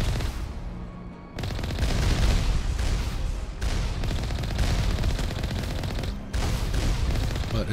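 Gunfire in Mass Effect from a gun prone to overheating, dense rapid bursts of shots in several sustained strings separated by short pauses, loud and close.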